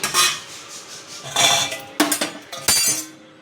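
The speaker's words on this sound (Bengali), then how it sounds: "ঢাকনা দিয়ে দিলাম" A lid is set onto a cooking pot of thin fish and potato curry, several close metallic clinks and clatters in quick succession after brief rustling, loud and with no talking.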